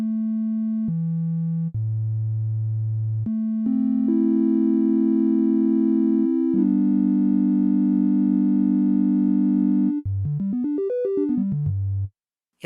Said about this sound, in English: But this VCO also has a sine wave